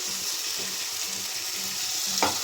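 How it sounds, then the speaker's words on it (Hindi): Tomato puree sizzles and fries in a pan with turmeric, coriander and other spices, a steady close hiss with soft stirring scrapes and a brief splash near the end. "अब इसमें मैं डालूँगी टमाटर की प्यूरी"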